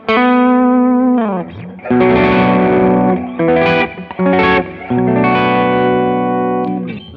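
Electric guitar on a humbucker pickup played through a Boss Waza Craft BD-2w Blues Driver set for light distortion: sustained chords and phrases ringing out alone, with a few brief gaps between strums.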